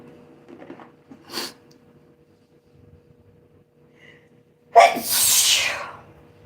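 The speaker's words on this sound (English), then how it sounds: "Like how I protect you from my sneeze" A single loud sneeze bursts out near the end after a quiet stretch with faint rustling, trailing off in a breathy rush.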